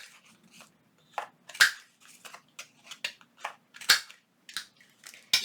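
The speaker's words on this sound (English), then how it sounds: "Now I have my corner rounder, and I'm going to round the corners here." Paper corners being rounded with a corner rounder punch, giving a series of close, crisp crunching snaps that come in irregular bursts, some louder than others, with no talk.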